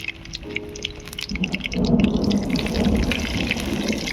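Whole bay leaves, dried chilli, cardamom, cinnamon and cloves fry in hot mustard oil, starting with a faint hiss that swells into a steady, crackling sizzle close by.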